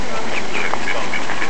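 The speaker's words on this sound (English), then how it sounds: "These are male ducks." Ducks in a park, male ducks among them, quack in a few short calls over steady outdoor background noise. A person speaks nearby at times.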